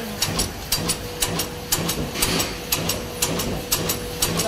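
A plastic t-shirt bag making machine with four knives runs bottom sealing and cutting at a fast, even rhythm, close and loud, each stroke a hissing mechanical clack repeating several times a second.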